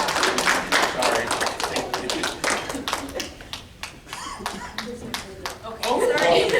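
Clapping from attendees at a board of education meeting, a fairly close patter of hand claps that thins briefly midway and then picks up again, with voices audible underneath.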